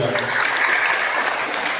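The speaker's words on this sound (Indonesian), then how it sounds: "Tepuk tangan." Audience applause at a talk about Rocky Gerung, a dense, steady wash of many hands clapping that fills the whole stretch without a break.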